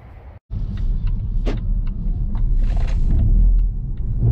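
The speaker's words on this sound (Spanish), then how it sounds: "ahora vamos a ver cómo es que se maneja este Volvo C40" Volvo C40 Recharge electric car with two electric motors, one per axle, driving on the road: a steady low rumble of tyres and road noise that fills the cabin, broken by one brief dropout near the start, with no speech.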